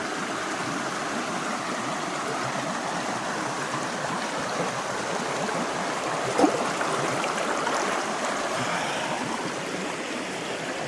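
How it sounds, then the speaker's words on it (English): Steady rushing water of a flowing stream fills the scene, a constant broadband wash close by with a brief knock partway through. "Down here at the river."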